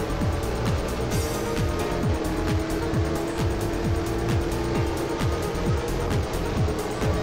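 Racing cars, including GT1 machines such as a McLaren, roar around the Le Mans circuit in a video game. A loud, continuous engine drone with rapid, rhythmic rising revs and gear shifts sweeps on without a break.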